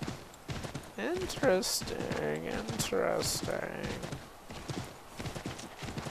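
A horse's hooves clip-clop steadily in the video game Assassin's Creed 3, with a whinny partway through, while a player talks over the game sounds.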